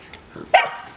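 Gypsy, an old dog, gives a single sharp bark close by during play with another dog named Buddy, after a few soft scuffling sounds.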